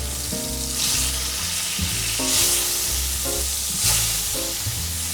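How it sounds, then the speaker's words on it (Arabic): Lamb ribs fry in very hot oil in a pan, a loud close sizzle that swells in a few waves with occasional clatter of the meat shifting, no talking. "رح احط فيها الزيت ورح بلش اقلي الريش هيك"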